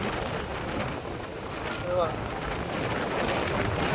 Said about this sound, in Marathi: कसला समुद्र तुफान